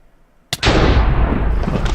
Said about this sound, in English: you can get out of the way because there's an explosion